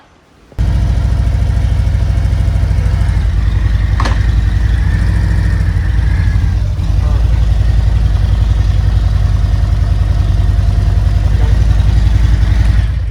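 A Harley-Davidson motorcycle engine, its clutch cable just adjusted, fires up and settles into a steady, loud idle with a lumpy low rumble throughout, plus a brief clatter early on.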